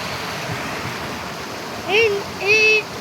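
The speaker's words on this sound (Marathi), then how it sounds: "पाण्याचा निखळ असा फ्लो चला मुलांसोबत आलो पण पाणीपुरी बघायला भेटलं छान नदी" Clear river water flows in a steady, close rushing wash, with a couple of short voiced sounds from people rising above it near the end.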